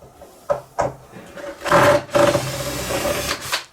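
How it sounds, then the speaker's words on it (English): Screws being removed from a Marshall 1960A speaker cabinet produce a close series of short scraping and squeaking turns, with a few sharp knocks early and a longer grinding stretch through the middle, with no talking. "I'm removing these screws."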